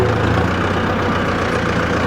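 A Mahindra Novo 605 DI PS 4WD tractor, a 50 hp four-wheel-drive model, sits at normal idle rpm in top gear, its engine holding a steady, even low rumble throughout with no speech over it.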